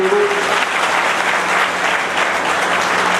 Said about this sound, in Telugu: వారికి చప్పట్లతో స్వాగతం జరుగుతుంది.